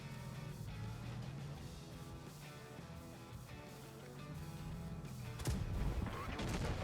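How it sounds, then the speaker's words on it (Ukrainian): Booming tank cannon shots in World of Tanks Blitz over a dense, steady game soundtrack, with a heavier blast near the end. "Дуже добре стріляє гармата."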